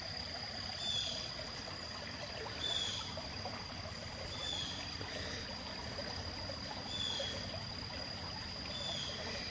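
Water of Honeysuckle Creek flows steadily in a low, even outdoor wash with no talking, faint and continuous throughout, with a few brief high chirps above.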